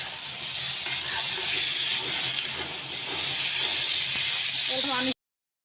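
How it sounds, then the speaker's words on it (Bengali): Pumpkin frying in a little oil gives a steady, close sizzling hiss that continues throughout and swells slightly partway, then cuts off abruptly at the end. "বেশি তেল লাগবে না, অল্প ভাজি করবো,"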